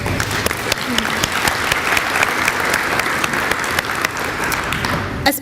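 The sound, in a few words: audience applause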